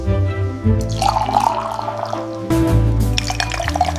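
Strawberry juice pours steadily into a glass, a continuous trickling flow with a slight rise in pitch as the container fills.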